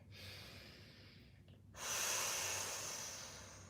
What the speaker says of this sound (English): Take one more big breath for me.